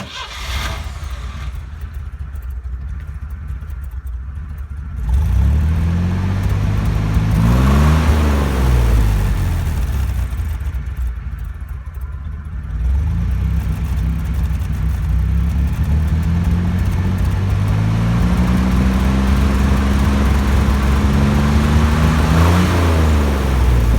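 A Jeep with a Dauntless 225 V6 breathes through Flowmaster mufflers, idling with a deep, loud rumble and rising into several revs that swell and fall back.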